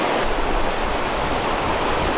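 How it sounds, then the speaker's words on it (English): A mountain stream in Colorado tumbling over a series of small waterfalls between rock layers, giving a loud, steady rushing roar that stays constant throughout. "the higher you go, the more of these little mini waterfalls you see"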